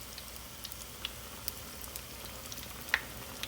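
Haitian-style herring fritter batter dropped into hot oil gives a soft, steady sizzle with a few sparse, faint pops, close by and without talk.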